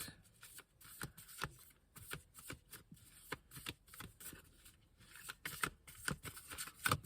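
Tarot cards shuffle repeatedly in soft, crisp riffles and flicks, close and quiet, with no talking.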